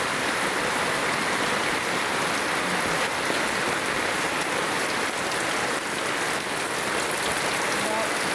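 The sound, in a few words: rain on floodwater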